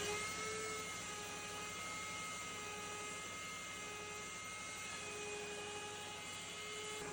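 Makita impact driver trigger clamped on to spin a router bit in a homemade router sled cutting wood, a steady high whine with a constant droning hum, unbroken and fairly close.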